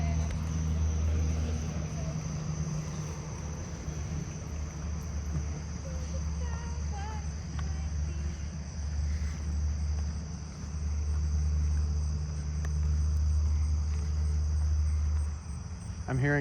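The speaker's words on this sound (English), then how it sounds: "I'm hearing the pine tree crickets down that way again." Pine tree crickets trill steadily in the distance through a night chorus of crickets and katydids, a continuous high buzz beneath a low rumble of faraway traffic.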